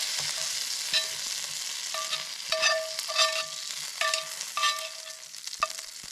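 Chips warming in a hot pan at a solo camp, a steady fizzing sizzle broken by repeated clinks of a utensil against the metal as they are stirred, close up with no talking.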